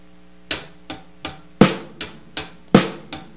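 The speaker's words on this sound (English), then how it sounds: "Now, instead of the snare being on 2 and 4, it's going to be on the and of 2 and 4." A drum kit plays an eighth-note Latin rock groove with the snare on the and of 2 and 4, eight crisp evenly spaced hits with two louder accents, close and alone without talk.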